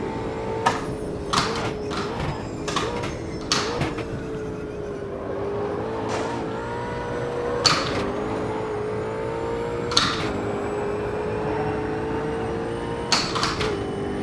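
Race car engine on track in Automobilista 2, a steady droning hum with shifting pitch as it accelerates, punctuated by sharp regular clicks of gear shifts across the lap.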